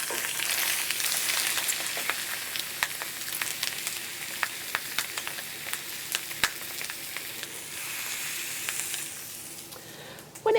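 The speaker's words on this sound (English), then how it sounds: "I always go skin side down first, really get that very hard sear, and you'll hear it as soon as it goes onto the skillet" Chicken skin searing skin-side down in a very hot skillet during spatchcock chicken cooking, giving a steady loud sizzle and hiss with scattered crackles and pops, close and continuous, with no talking.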